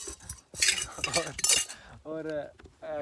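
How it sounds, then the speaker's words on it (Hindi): Metal cooking pots and utensils carried on a mountain trek, clanking and clinking in quick bursts, close by, with a voice speaking briefly under them. "अब हमने ये बर्तन लाए थे साथ"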